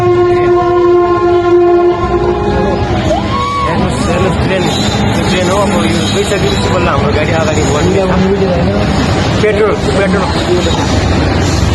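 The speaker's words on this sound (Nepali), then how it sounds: "हैदराबादमा मालगाडी" A freight goods train passes close by on a track in Hyderabad, sounding its horn in long tonal blasts before a loud, continuous rumble of wagons with screeching wheels takes over, with voices mixed in.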